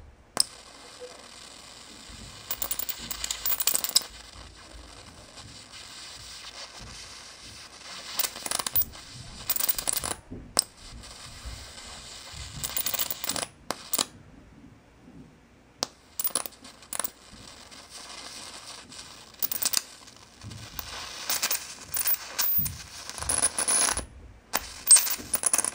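A homemade ZVS driver feeds a flyback transformer that throws a high-voltage arc, heard as intermittent harsh buzzing and crackling bursts with abrupt starts and stops over several seconds, separated by near-silent gaps.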